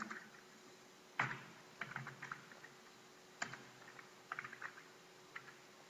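HTML code being typed on a computer keyboard, with soft close key clicks in short irregular bursts, some sharper strokes and pauses between them, in a quiet room with no talking.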